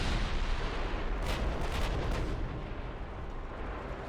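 Naval artillery fire in the Ultimate Admiral Dreadnoughts warship game, a sustained roaring barrage of heavy guns with a cluster of sharper booming salvos in the middle, loud and continuous throughout.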